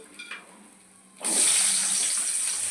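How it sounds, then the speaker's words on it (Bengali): Potatoes drop into hot oil for a Bengali bhetki fish-bone chorchori: after a quiet, faint start, a loud, steady sizzle bursts in suddenly and holds, close and unbroken, with no talk. "এই তেলটার মধ্যে আমি আলু দিয়ে দেবো।"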